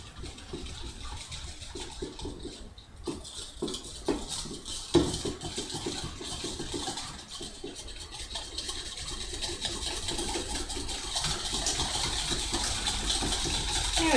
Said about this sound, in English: So now you just want to mix it all together.